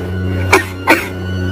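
Two sharp coughs from a single person, spaced about half a second apart, ring out clearly over a steady low hum in an eerie mountain-forest horror scene.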